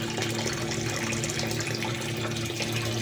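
Steady running water pours continuously from an outlet into the tank of a hydroponic NFT system, loud and close with no pauses.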